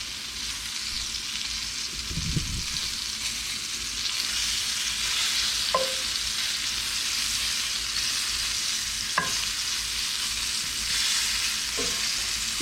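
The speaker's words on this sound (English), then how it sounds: "You just kind of want to sear your pork." Pork sears in a pan for green chile, giving a steady close sizzle throughout with a few faint clicks of a utensil stirring the meat.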